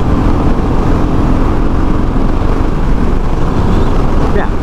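A 2021 Royal Enfield Meteor 350 motorcycle cruises on a 60 mph highway, with a steady, loud engine drone and heavy wind rush throughout.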